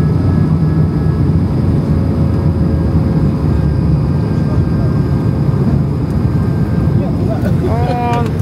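Steady broadband rumble of an Emirates airliner descending toward Dubai, heard from inside the cabin, a continuous loud drone with a faint tonal whine and soft voices near the end.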